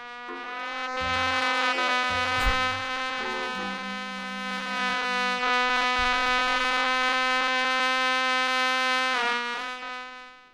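A voice imitates a mosquito with a steady, nasal buzzing drone that holds for about ten seconds, close and continuous, with slight wavers in pitch and no words.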